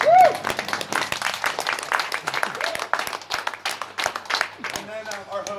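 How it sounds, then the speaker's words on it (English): Small audience at a Sunday community meetup in Amsterdam clapping, sharp distinct claps in a room, loud at first then thinning, with voices and chatter mixed in. "Give yourselves a round of applause for showing up at the Sunday."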